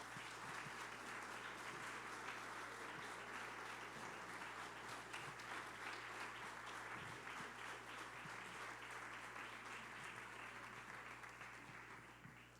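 A church congregation applauds during a morning service with sustained, even clapping from many hands, heard faint and somewhat distant.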